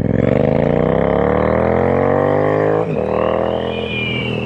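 Triumph Street Twin 900 with a 900cc inline twin and TEC 2-into-2 exhaust pipes, engine roaring steadily as revs climb in a long rising pull, then briefly dipping and rising again, loud and close.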